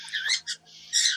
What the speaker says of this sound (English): the bird seems to be intensifying as you speak loud